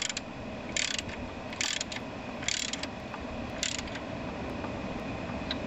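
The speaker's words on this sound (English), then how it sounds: "we're into the final tightening sequence here for these wheels." A ratchet tightens the wheels on a Sears ST16 tractor, with four short bursts of rapid clicking spaced about a second apart over a low steady background hum, close and clear with no talking.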